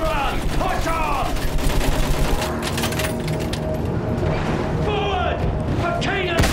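Machine gun fire in a video game, with dense rapid bursts and repeated shots rattling continuously over game sound and battle effects, with a voice speaking underneath.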